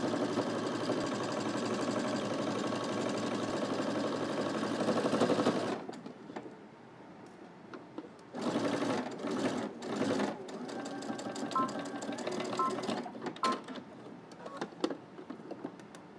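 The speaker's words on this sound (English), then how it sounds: "let's head to the machine and we're going to stitch starting on one end and going all the way across to the other end" A sewing machine stitches a seam on a cardigan with a 5/8 inch seam allowance, an even mechanical whir running several seconds, then fabric handling and shorter stitching bursts, close and moderately loud.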